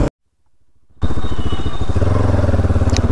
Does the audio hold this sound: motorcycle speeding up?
yes